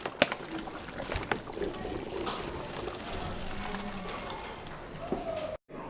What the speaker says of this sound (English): This is a mini cyclone I made out of 2 bottles, and I used some water and a bit of food coloring.